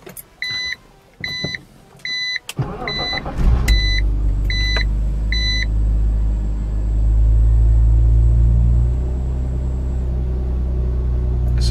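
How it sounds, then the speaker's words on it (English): A series of electronic chimes, then a BMW Z4 engine cranks and starts, settling into a steady, deep idle rumble that swells slightly midway. "we're gonna turn this car on and see how everything goes"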